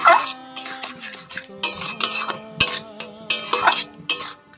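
Spicy semolina upma being stirred and fried in a pan over a raised gas flame, with a spoon scraping and clinking against the metal in quick irregular strokes, close and clear without talk.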